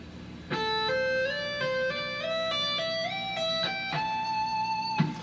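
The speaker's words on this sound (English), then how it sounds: "so it's kind of a hammer-on slide exercise." A lone guitar note is picked and then climbs smoothly through legato hammered and slid pitches along one string, ringing clearly up close.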